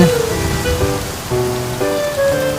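Rain pours down steadily, with harmonic tones like voices or music mixed faintly underneath the constant patter.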